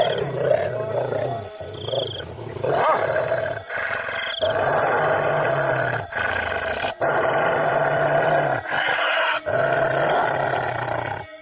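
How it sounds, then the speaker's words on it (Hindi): Cartoon sound effect of a beast growling from the bushes, deep and loud, in a run of rough snarling roars broken by brief pauses over about eleven seconds. "तभी झाड़ियों में से किसी के गुर्राने की आवाज आने लगती है।"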